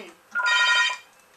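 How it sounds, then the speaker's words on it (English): A telephone rings once in a room during an NBA 2K11 basketball game, a short bright trilling ring, loud and alone. "Someone pick up my phone."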